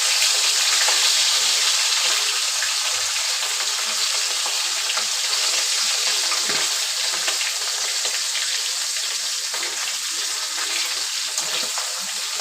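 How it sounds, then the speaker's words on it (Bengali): Fish frying lightly in oil in a pan, a steady dense hiss and crackle of sizzling that continues without pause, close and fairly loud with no talking. "হালকা করে মাছগুলো ভাজবো"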